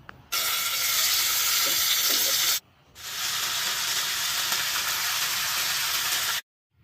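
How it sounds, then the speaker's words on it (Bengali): Baim eels hiss and sizzle loudly as they fry in oil in a wok, in two long continuous stretches separated by a brief pause. "কড়াইতে তেল দিয়ে বাইন মাছগুলোকে ভেজে নেব"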